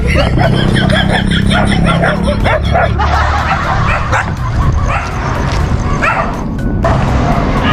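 A puppy barks and yips repeatedly in quick, loud bursts close by, mixed with whimpering, while people talk over it outdoors during a run.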